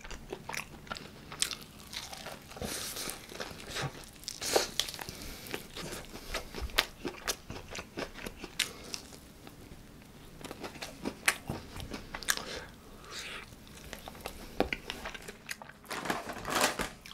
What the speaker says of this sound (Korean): 오늘 이렇게 버거킹 햄버거 3개 한번 먹어봤는데